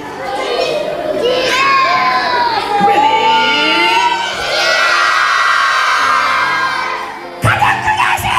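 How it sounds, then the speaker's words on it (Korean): A church congregation at a Sunday service shouts together loudly in a sustained, massed roar of voices that swells and holds, then breaks off into a short burst of further shouting. "마지막 세 번째 소리를 지르는 거야. 나스 이번엔 가장 크게 질러야지"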